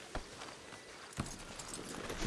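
A horse walks with a few scattered hoof clops over a steady outdoor noise bed, the strikes spaced about a second apart and moderately close.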